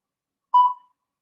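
A workout interval timer gives one short, clear electronic beep, fairly close and alone against silence.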